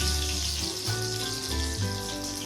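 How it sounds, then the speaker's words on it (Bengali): Banana flowers frying in a pan give a steady close sizzle and bubbling hiss, with tonal hum and low thumps shifting through it. "মোচার ফুলগুলোকে ফ্রাই করতে হবে"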